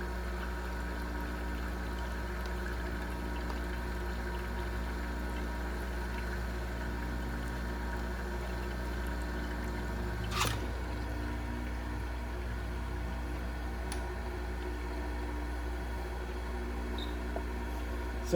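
A cold press juicer squeezes ginger pulp with a steady, even mechanical hum and faint whirring tones, broken once by a brief click partway through.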